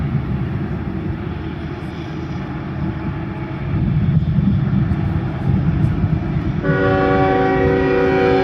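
A long freight train grinds along the Tehachapi Loop in California, a steady rumbling roar of rail cars that swells in the middle, then a sustained multi-tone train horn joins near the end, all heard without talk.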